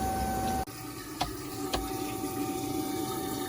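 Water runs steadily into an RV tank through a Camco Quickie Flush fitting, a constant hiss with a couple of faint knocks and no talk over it.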